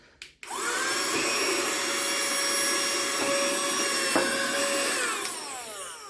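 A small Temu vacuum cleaner switches on after a few clicks and whines steadily at close range with a constant motor drone and a couple of brief rattles of debris being sucked up from a tabletop.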